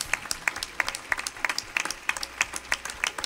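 A congregation claps for the Lord during a sermon, a short burst of rhythmic, fairly loud clapping with distinct regular beats.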